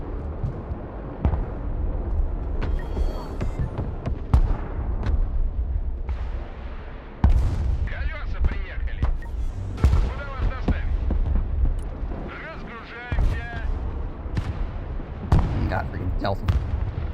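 Artillery fire in the military strategy game Broken Arrow, heavy booming shell impacts and launches rolling through at irregular intervals over a dense battlefield wash, with voices talking intermittently.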